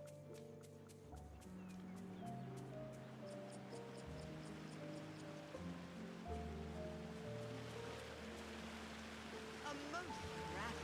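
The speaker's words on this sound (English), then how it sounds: "There's a waterfall." A steady rushing waterfall in the video game Disney Dreamlight Valley, a soft broadband wash that swells toward the end beneath continuous layered game music.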